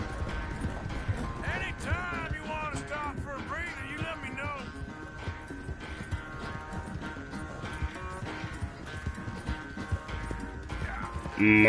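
Horse hooves clip-clop at a steady trot through a town in a video game, under game music, with an occasional whinny and mechanical clanks; no one speaks over it.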